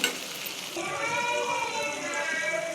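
Chili powder frying in a pan with paneer bhurji spices, a steady close sizzle running throughout with faint stirring scrapes.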